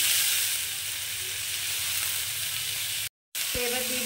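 Chopped tomato and ginger frying in a pan give a loud, continuous close-up sizzle with a brief cut near the end, followed by a faint tonal hum.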